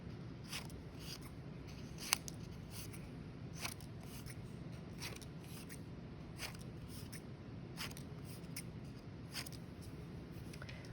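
Scissors snipping construction paper into small squares, a long run of quick, crisp cuts in irregular clusters, close and fairly quiet, with no voices.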